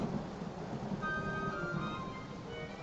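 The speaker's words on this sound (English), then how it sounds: "I can't see anything in this downpour." Heavy rain pours steadily in a dense, even hiss, with a low rumble beneath and faint tonal whines in the background, in a Thomas & Friends-style Sudrian Stories episode.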